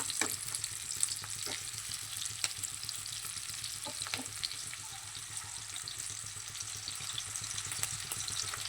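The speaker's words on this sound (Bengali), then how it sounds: "দু মিনিট নেড়ে চেড়ে নিলেই হয়ে যাবে পেঁয়াজটা ভাজা" Onions sizzle in oil in a wok while egg chow mein is cooked. A constant, fairly soft frying hiss runs throughout, with a few faint stirring clicks and scrapes.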